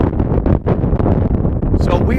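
Strong gusts buffet the microphone on a farm, with deep, rumbling wind noise pulsing throughout and a voice speaking over it.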